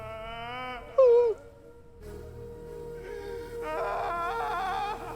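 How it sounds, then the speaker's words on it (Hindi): A woman cries in a TV drama scene, a wavering, moaning wail with sobbing pitch bends that rises sharply, then gives way to quieter sustained tones and background sound. "अभी किसी औरत के रोने की आवाज सुनाई दे रही है हमको"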